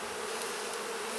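A honey bee buzzes close and steady during hive inspection, a brief, continuous drone with no voices.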